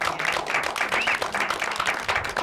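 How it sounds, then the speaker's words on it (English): Studio audience applause on a late-night talk show, a steady wash of many hands clapping at moderate volume, sustained without break for a couple of seconds. "That deserves a round of applause"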